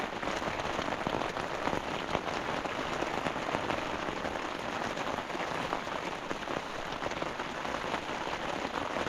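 Heavy rain pounds steadily on a tent pitched by a small river in the forest, a dense, constant patter with no pauses, close and loud throughout.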